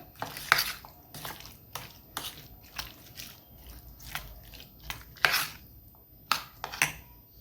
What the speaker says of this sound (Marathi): यामध्ये चवीनुसार मीठ मिक्स करून घ्यायचं